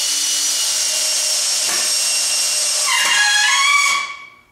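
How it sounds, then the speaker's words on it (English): A cordless drill fitted with a nail puller bit runs at a steady, whirring high speed for about four seconds while pulling out a screw, then winds down and stops; it is close and loud, with no talk. "Now here we want to demonstrate the power of the cordless drill nail puller."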